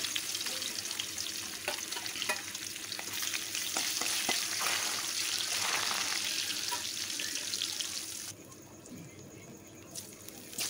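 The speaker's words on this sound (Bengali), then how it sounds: "লবণ হলুদ মাখিয়ে আমি কিন্তু মাছগুলো লাল লাল করে ভেজে নিচ্ছি।" Fish rubbed with salt and turmeric fry in hot oil in a pan, a steady close sizzle with occasional crackles and pops that drops away near the end.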